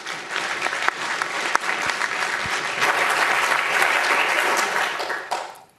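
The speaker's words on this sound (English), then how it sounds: "Give him a round of applause." Steady applause from a conference audience greets a speaker arriving to give a hardware hacking talk, dense clapping building to a sustained peak before tapering off at the end.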